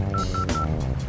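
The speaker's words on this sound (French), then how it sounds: "Puis il appela Mère Chèvre sur son téléphone portable" Three short electronic mobile phone dialing beeps in quick succession, crisp and close, followed by a brief chirping tone.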